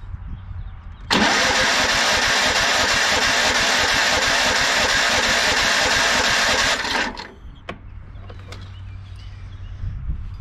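A Tecumseh small engine with a plastic-bowl carburetor is cranked by its starter in one long, loud, buzzing whir lasting about six seconds. It then cuts off, leaving a low hum and a few faint clicks.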